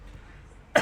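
A person coughs once, a short loud burst at the very end after low background murmur.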